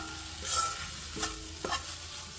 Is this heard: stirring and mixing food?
yes